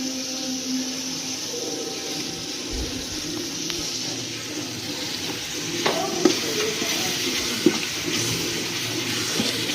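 Dindigul country chicken biryani mixture sizzles steadily in a pot while being stirred, a continuous close frying hiss with occasional scraping clinks of the spoon against the metal.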